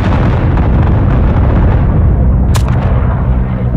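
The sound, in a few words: gunfire in video game Isonzo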